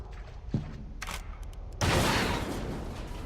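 A short sequence of sharp synthetic blasts and crackling bursts from the video game Alice: Madness Returns, with a sudden louder boom partway through that rumbles on to the end.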